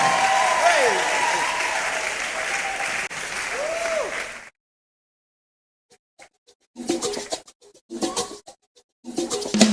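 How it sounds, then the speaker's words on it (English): Studio audience at a radio show recording clapping together for several seconds, then silence, then short bursts of clapping and voices returning in uneven spurts. "Can you clap with us?"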